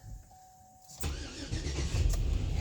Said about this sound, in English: Let's start the car up and see if it works.